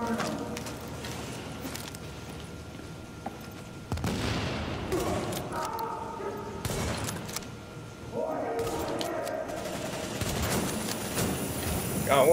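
Sniper and other gunfire in the video game The Division, with bursts of shots and thuds at several points, loudest around four seconds and from eight seconds on, mixed with background game noise and talk.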